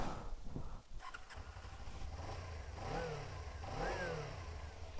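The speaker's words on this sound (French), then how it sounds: "Allez, je mets le contact." Suzuki V-Strom 250 motorcycle engine turning over and settling into a light, smooth idle, with a couple of brief revs rising and falling, steady and fairly near.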